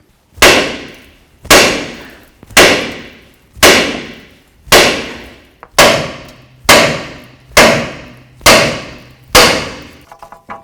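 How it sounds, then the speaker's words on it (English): A hammer strikes a steering knuckle to free the lower ball joint on a 2007-2017 Ford Expedition, giving ten loud, sharp metallic blows spaced about a second apart, each ringing briefly before the next. "carefully bonk on the knuckle and try to separate the ball joint from it"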